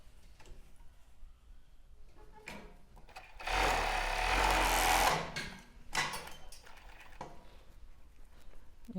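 Sewing machine stitching a child's bra, first a few quiet ticks, then a loud close run of rapid stitching for about two seconds, followed by shorter bursts and light ticking.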